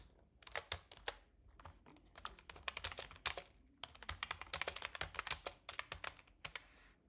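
Code is typed on a computer keyboard in quick bursts of close, crisp key clicks, with short pauses between runs and no talking.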